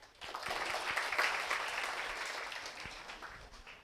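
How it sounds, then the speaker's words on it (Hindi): An audience claps together at an Energy Swaraj Yatra event, a dense patter of many hands that swells quickly, holds steady and then thins out toward the end, with no voices over it. "अरे अच्छे से ताली बजा"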